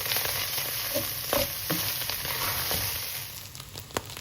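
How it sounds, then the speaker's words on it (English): Tomato paste sizzles in a hot pan and is stirred through, giving close, steady frying with soft scraping strokes and a few sharp pops. "just mix that in and cook that off for a minute or so"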